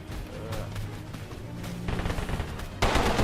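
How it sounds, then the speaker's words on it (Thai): Heavy gunfire in the battle-royale game Totally Accurate Battlegrounds: dense, rapid overlapping shots and bursts, mid-distance and fairly loud, ending in a sudden louder volley. "ตอนนี้ยิงกันดุเดือดมาก"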